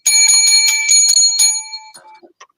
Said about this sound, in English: All right, we got old-fashioned jingle bells.